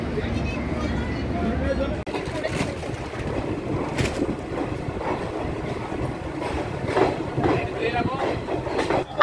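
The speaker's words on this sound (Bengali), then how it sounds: "আমাদের ট্রেন রামপুরহাট স্টেশন ছেড়ে বেরিয়ে গেল" The Kanchanjunga Express pulling out of Rampurhat station, with a steady rumbling rattle of carriages and irregular clicks of wheels over rail joints, heard from inside the train with people talking.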